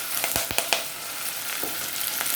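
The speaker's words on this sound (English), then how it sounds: "So the onion goes in and the curry leaf." Onion and curry leaves dropped into hot oil, giving a bright, hissing sizzle with a few sharp crackles and pops near the start, close by and without speech.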